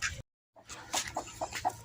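An aseel hen clucks on a desi village poultry farm, giving a few short, close clucks after a brief pause.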